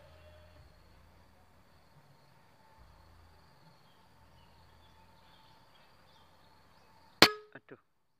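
A Mouser OD 28 air rifle fires once, a sharp crack near the end followed by a couple of quick metallic rattles, after a stretch of quiet outdoor background with faint insect-like buzzing.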